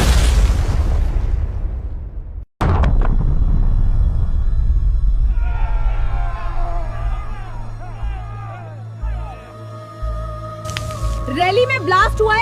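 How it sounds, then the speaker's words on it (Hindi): A bomb blast tears through a political rally as a cinematic effect: heavy rumbling booms and a sharp cut to a crashing impact, followed by shouting voices and dramatic tones. "रैली में ब्लास्ट हुआ है"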